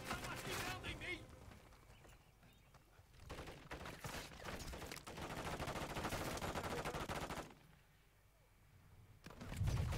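Gunfire in Call of Duty Modern Warfare, sustained bursts of rapid shots rising and falling over several seconds, fairly quiet in the mix, with players talking through the match.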